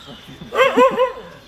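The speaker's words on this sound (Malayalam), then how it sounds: "ഇൻഡിജിനസ് പട്ടിയുണ്ട്" An indigenous Indian dog barks three times in quick succession, fairly close and loud, over faint background noise.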